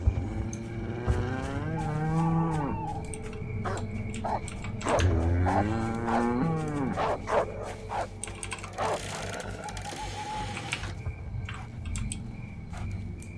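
Cows moo in a video game where cows get tipped over, a few long wavering lows rising and falling, with clicking and keyboard tapping underneath.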